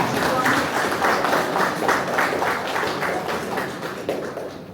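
A seated crowd applauds at a senior citizens' day celebration in a village hall, steady clapping filling the room for several seconds and slowly thinning toward the end.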